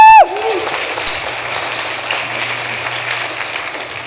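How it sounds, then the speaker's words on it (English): An audience applauds five contest participants at a cytopathology competition: steady, moderate clapping after a short whistle-like tone at the start, with a faint low hum underneath throughout. "let's give a round of applause for all these five wonderful people."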